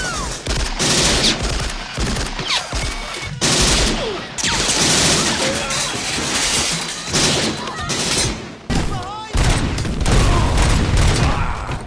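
Rapid bursts of Auto 9 pistol gunfire from the game Robocop Rogue City ring out in loud volleys mixed with impacts, explosions and game action, with brief gaps between the bursts.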